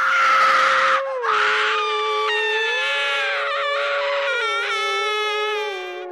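A woman screams, a long, loud, wavering cry that bends up and down in pitch and breaks briefly before surging again, close and alone with no talking.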